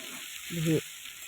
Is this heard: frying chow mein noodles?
yes